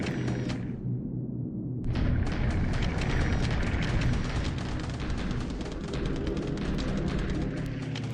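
Bombing explosions in the War in the Pacific naval strategy game, a dense rumbling barrage of booms that cuts out briefly, then resumes as a continuous heavy roar at moderate level.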